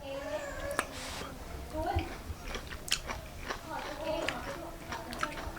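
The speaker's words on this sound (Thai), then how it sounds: "เดี๋ยว จะลองกินดูนะครับผม ครั้งแรกเลย" Someone bites and chews home-cooked food, with soft crunches and moist chewing sounds, quiet and close, mixed with background voices.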